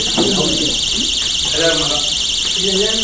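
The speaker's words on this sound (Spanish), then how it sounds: "Hay alarma sonando." An alarm buzzer sounds continuously and loudly with a rapid warbling pulse, going on without pause under someone talking during a discussion on international affairs.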